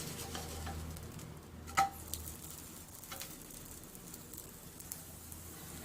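Ragi roti fries on a hot pan with a soft, steady sizzle, broken by a sharp clink of the plate near the start and a few light scraping ticks as it is turned.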